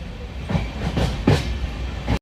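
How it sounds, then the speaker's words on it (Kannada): A passenger train moving on its tracks during a rainy trip toward Subramanya Road, a steady rumble with rhythmic clickety-clack pulses, fairly close, with no talking. "ಮತ್ತೆ ಟ್ರೈನ್ ಮೂವ್ ಆಯ್ತು"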